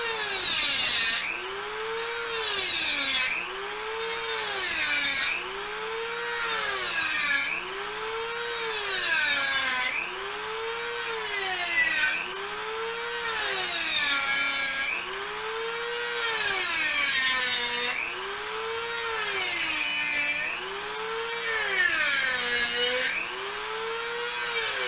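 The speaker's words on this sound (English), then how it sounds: "Take your Dremel, edge it out around the end." A Dremel rotary tool edges out the end of metal lightsaber tubing, whining in a steady series of rising and falling strokes, about a dozen cycles, loud and close with no talk.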